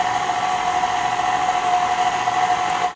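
An electric mixer beats carrot cake batter in a bowl, giving a steady, close motor whine that holds at an even pitch and loudness for the whole stretch before cutting off at the end.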